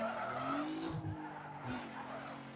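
Car tires skid and squeal through a long drift in a car video game, with engine tones rising and sliding in pitch and moderately loud, steady scrubbing noise.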